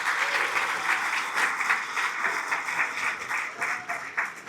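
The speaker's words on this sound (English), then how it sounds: "So let's give her a big round of applause" A gala audience breaks into warm applause for a scholarship recipient, giving a steady, full crowd clapping that continues evenly for several seconds.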